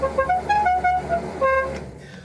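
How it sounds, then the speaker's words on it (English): A Chevrolet Biscayne's car horn honks in a quick series of short toots with a steady electric tone, close and fairly loud, then a final sustained blast that fades out; the engine is not running. "The horn."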